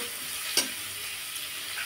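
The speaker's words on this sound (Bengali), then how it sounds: "এদিকে দেখো গাজর ক্যাপসিকাম কাজু কিশমিশ এগুলো সব ভাজছে ঘিয়ে।" Carrot, capsicum, cashews and raisins fry in ghee with a continuous close sizzle, broken once by a short clink of a utensil against the pan.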